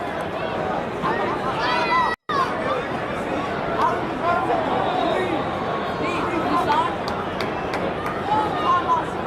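Football stadium crowd during the second half of a match featuring Mbappé, a constant hubbub of chatter and shouts with nearby voices talking over it and a brief dropout near the start.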